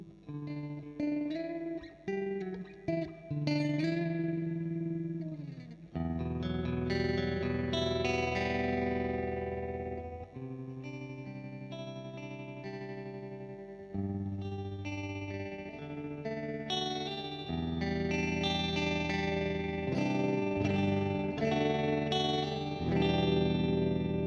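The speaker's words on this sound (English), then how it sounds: "We can hear the rate and the depth of the tremolo decrease there." Guitar played through an MXR M305 tremolo pedal, sustained chords and notes pulsing in volume as the rate and depth shift, clear and loud with no talking.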